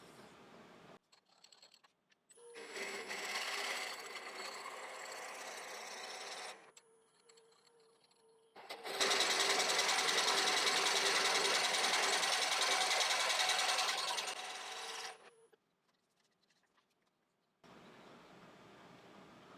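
A 50mm drill bit bores into a rotten log in two long bursts, a loud grinding, buzzing whir with short quiet gaps between and a softer stretch after.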